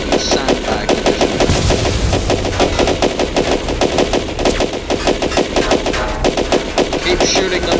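Video game gunfire: loud, rapid automatic bursts rattle almost without pause for the whole stretch, close and dense, with no clear talking over them.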